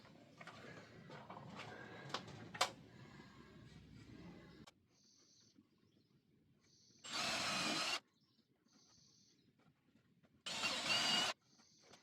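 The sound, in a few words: power drill pilot drilling holes in wood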